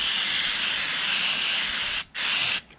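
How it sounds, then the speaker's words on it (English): Aerosol wax and grease remover sprayed onto small thin shim washers from a Warn free-wheeling hub rebuild, a close, steady hiss lasting about two seconds, a short break, then a brief second burst. "Just gonna hit them with some wax and grease remover."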